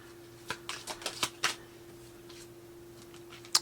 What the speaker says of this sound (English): Let's pull like 5 cards